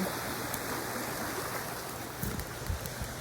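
Broad, steady rushing of a river flowing near a road lined with white trees, a constant close wash of water with a few small splashes and knocks, no talking.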